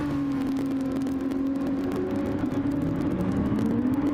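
A racing car engine in a racing video game drones loudly and steadily at high revs, its pitch wavering slightly and climbing near the end, with no voices.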